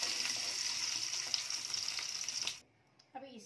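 Potato pieces fry in hot oil with a steady bright sizzle. It cuts off abruptly as they are lifted out to drain, leaving near silence and a few faint clinks and a short voice.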